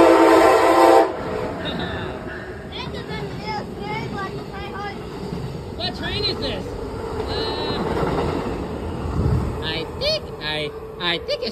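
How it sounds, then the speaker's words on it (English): An Amtrak passenger train's horn blares loudly at the start, then the train rumbles and clatters past while people talk and shout over it. "It's an Amtrak train."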